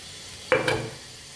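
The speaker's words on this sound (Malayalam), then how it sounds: "നമുക്ക് ഇളക്കി കൊടുക്കാം" Grated coconut being stirred into pigeon pea thoran in a hot pan, a brief close scraping stir with soft sizzling lasting under a second, no talk.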